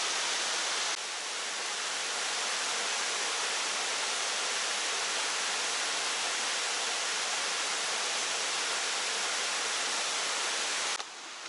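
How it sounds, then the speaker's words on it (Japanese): Five-tiered waterfall along a walking trail near the Inuyama campground, a steady dense roar of falling water, close and unbroken with no voices. "五段の滝。"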